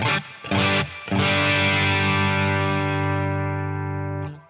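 Electric guitar through a Wampler Dual Fusion pedal with mild overdrive: a few short picked notes, then a chord rings out and slowly fades, warm and slightly gritty.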